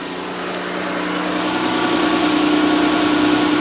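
A car engine idling right after an oil change gives a steady, close, even hum with a constant low drone and no speech, growing slightly louder as it runs.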